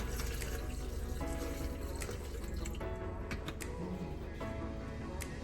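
Celery and lemon juice is poured into a container, a continuous close splashing, trickling stream of liquid lasting throughout, with no talking.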